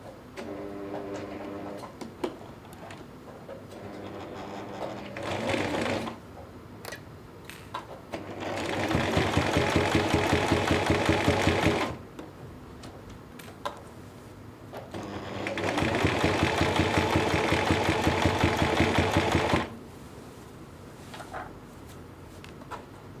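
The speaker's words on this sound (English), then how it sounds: "now I'm ready to sew my straight seam around the edge to hold my bias binding down" A sewing machine runs a straight seam around a dress edge to hold bias binding down, in two long steady bursts of fast, loud rhythmic stitching separated by quieter pauses with small handling clicks.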